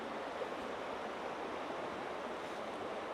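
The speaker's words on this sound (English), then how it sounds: "There's nothing quite as peaceful as running water, the sound of running water." Steady rushing water of a stream running outdoors near an abandoned mill, a continuous broadband wash with no pauses, fairly close and unbroken by talk.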